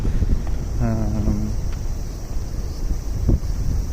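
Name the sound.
wind noise on microphone outdoors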